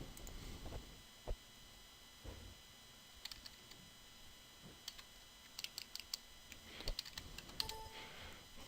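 Typing on a computer keyboard: faint, irregular key clicks, sparse at first, then a quicker burst of taps toward the end, over a quiet background hum with no talking.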